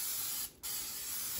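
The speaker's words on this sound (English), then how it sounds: "we're gonna go ahead and add pan spray to your baking dish" Cooking pan spray hisses from a can into a 9x7 baking dish, a loud, steady close-up spray with one brief pause in the middle.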